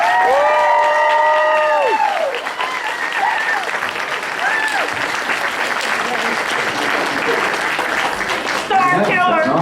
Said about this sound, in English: give me the biggest round of applause you can for Sam Witwer